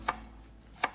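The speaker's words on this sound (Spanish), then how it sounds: "vamos a cortar el resto de verduritas y yo voy a cortar también el corderito en trozos" Two sharp knife chops land on a cutting board, one near the start and one near the end, loud and close with a quiet pause between, as vegetables and lamb are cut into pieces for a stew.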